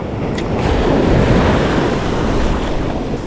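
Sea waves breaking offshore during a spin-fishing trip on the coast, a continuous loud roar of surf mixed with wind buffeting the microphone, no voices.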